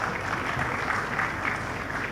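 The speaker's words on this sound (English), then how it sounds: "Can we give her a round of applause again, please?" Audience applause fills a hall at a CEO business forum in Nigeria, a steady wash of clapping at a moderate, even level throughout.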